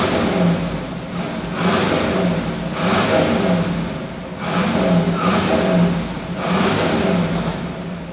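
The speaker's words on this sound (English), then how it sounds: "I'm gonna start the car up so you can hear it and see how cool this bad boy sounds." A 1976 Pontiac Trans Am engine runs and revs in repeated surges, rising and falling roughly every second or two, heard fairly close with no talking.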